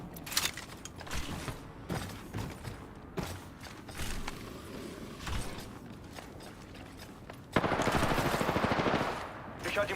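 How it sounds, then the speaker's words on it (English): Rapid gunfire in a battle royale video game, bursts of shots and mechanical clatter across the clip, with a dense sustained burst near the end; a voice talks at times. "Oh, they're shooting at me."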